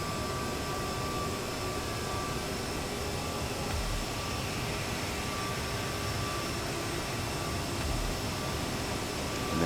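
CRJ 700 jet engines throttling up in a flight simulator game: a steady, loud broadband jet roar with a constant whine that holds evenly throughout, no voices.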